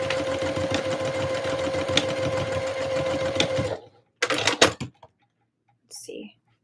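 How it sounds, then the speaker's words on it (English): A sewing machine runs steadily and loudly while sewing slippery elastic together for a dress cuff, then stops, followed by a couple of short bursts of stitching and faint handling clicks. "So I'm just going to sew the elastic together."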